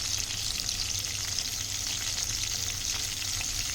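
Salt fish, tomato and brinjal curry sizzles and fries steadily in a pan, a close, constant crackling hiss with no voices.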